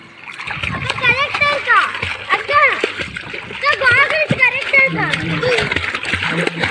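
Children splash in a swimming pool with repeated sloshing and spattering water, close and lively. Kids' voices shout and chatter over the splashes throughout.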